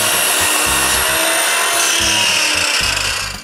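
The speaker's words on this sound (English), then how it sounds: "I clamp the chop saw on the workbench and clamp this contraption as the length stop" A chop saw clamped on a workbench cuts wooden window frame pieces to length, a loud continuous whining cut with a rhythmic low thumping beneath it, fading out at the end.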